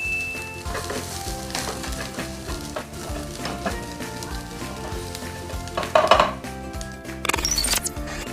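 Sardines, onion and chili fry in a pan with a steady close sizzle while a utensil stirs and scrapes, a few louder metallic clinks near the end; no voices.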